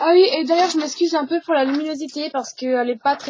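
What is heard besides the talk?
No everyday noises stand out.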